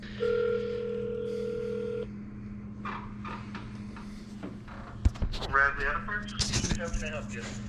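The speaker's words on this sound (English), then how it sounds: "We're gonna give them a quick little phone call." A telephone dial tone holds steady, then a quick string of dialing beeps follows, and a ringing line with clicks comes after, heard through a phone with voices faintly present.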